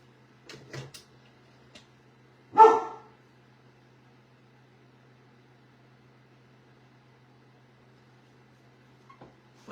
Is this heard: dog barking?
yes